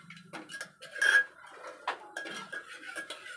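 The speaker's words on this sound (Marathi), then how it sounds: "वाटण नीट तेलावर परतून घेऊया" Ground masala paste sautéed in oil in a pan for mutton curry, heard mainly as a utensil knocking and scraping against the metal pan in a few short, close clatters.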